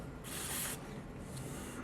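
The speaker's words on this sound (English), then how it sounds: "And I spray the part down" Spray lubricant hisses from an aerosol can onto a machined metal part, threads and bores included, coming as one sustained close burst and then a softer second burst.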